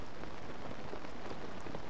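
Steady rain falls in the game Zelda: Tears of the Kingdom, a dense, even hiss of drops pattering on surfaces with no voices over it.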